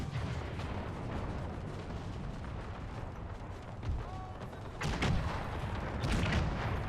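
Cannons fire round shot in a Napoleon: Total War Era mod battle, several deep booms and crackling musketry rolling continuously at middle distance, louder bursts near the end, with faint speech.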